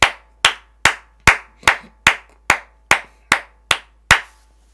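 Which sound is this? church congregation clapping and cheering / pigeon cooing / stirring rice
church congregation clapping and cheering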